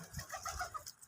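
Domestic deshi pigeons coo softly in a brief, faint burst of low throaty calls, with no talking.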